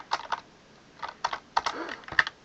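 Keys clatter on a computer keyboard while a Roblox script is typed, in short uneven bursts of close clicks with brief pauses between them.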